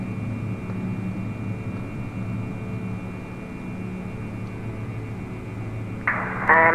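Steady droning engine noise of a Diamond DA62 twin-engine aircraft accelerating and rotating on takeoff, a constant loud hum from inside the cabin with a brief rush of noise near the end.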